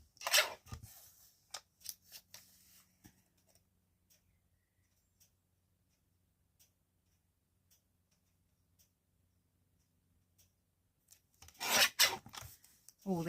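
Paper guillotine trimming a sheet of green paper, with sliding, rasping scrapes at the start and end and sparse faint ticks and taps in a long quiet stretch between, close and soft.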